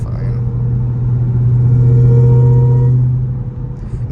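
Hellcat 300 car cruising with a new one-piece driveshaft, a loud steady low engine drone with a humming tonal note swelling slightly mid-clip, heard from inside the cabin with people talking.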